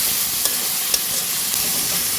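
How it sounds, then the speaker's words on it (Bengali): Garlic and ginger paste frying in a hot pan makes a dense, even sizzle with a few faint clicks, steady and close, no voices. "রসুনটাকে প্রথম ভাজা ভাজা করে নিচ্ছি, এখানে আদা বাটা দিয়ে আরেকটু ভাজা ভাজা করবো মশলাটা"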